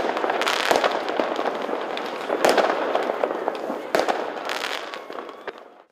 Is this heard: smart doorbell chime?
no